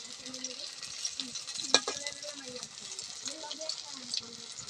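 Chicken chops fry in oil in a pan, a faint steady sizzle with soft crackles and a few clinks and scrapes of a utensil, quiet throughout.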